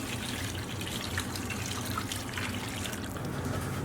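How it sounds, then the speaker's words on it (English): Marinade trickles and drips steadily for a few seconds as it is poured into a tray of chicken drumsticks for red wine braised chicken, a soft continuous pouring sound with no talking. "we're just going to pour this into the tray with our chicken."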